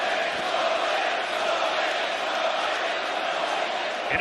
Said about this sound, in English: And it's a pro-Ferguson crowd